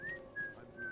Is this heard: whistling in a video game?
yes